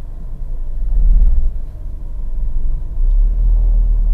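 A 2013 Mazda 2 with a 1500 cc engine and manual gearbox on a test drive, heard from inside as a steady, close low engine rumble and road drone that swells a little as it pulls, with no talking.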